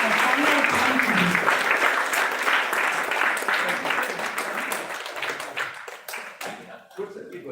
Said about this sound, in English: Can we all give him an applause before a final conference?